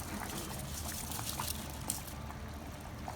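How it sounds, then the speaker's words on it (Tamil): Seeraga samba rice tipped into a pot of boiling water for white chicken biryani, a soft steady pour and trickle under a constant bubbling hiss, faint and close with no talking. "அந்த அரிசி வந்து இப்போ நான் இதோட சேர்த்துக்கிறேன்"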